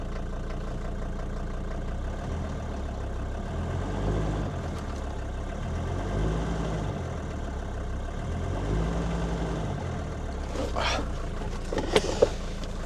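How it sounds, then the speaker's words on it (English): A Mercedes W123 300D five-cylinder diesel with 500,000 km settles into a steady, low, throbbing idle, closely heard, with a few sharp clicks and rattles near the end. "it heightens the anticipation for this 5-cylinder diesel to jump into life"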